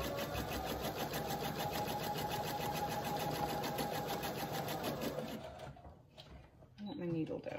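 A sewing machine rattles along stitching pinned quilt block pieces for a scrappy star block at a quarter-inch seam, steady and close for about five seconds before stopping, with a voice speaking over it.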